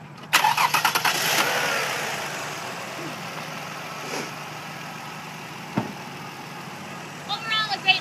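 A 2003 Lexus ES 300 engine cranks and catches, then settles into a steady mid-pitched idle under the open hood, with a few light clicks and knocks over the running engine near the end.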